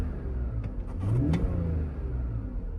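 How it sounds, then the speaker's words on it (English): A 2005 BMW E83 X3 2.5i with a 2.5 litre straight-six engine gets one quick throttle blip while parked with the air conditioning running. The engine idles, swells smoothly upward and settles back, close by and moderately loud. "I'm going to give it a very quick rev."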